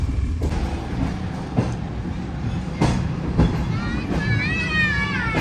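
The Shah Hussain Express rumbles into the main platform at Khanewal Junction with rolling wheel clatter and a brief rising squeal, while a voice talks over it.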